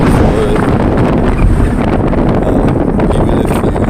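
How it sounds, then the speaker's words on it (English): Heavy wind gusts buffet a sailboat in a storm, a loud continuous rushing roar with microphone buffeting and pulsing surges throughout. "doing 40-mile-per-hour gusts"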